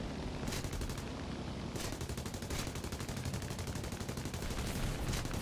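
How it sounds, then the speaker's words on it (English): Front guns of a Sunderland Mk V flying boat firing in War Thunder: a sustained, dense machine-gun rattle that runs loud and unbroken for several seconds, with no voices. "At least we're going to use our front guns."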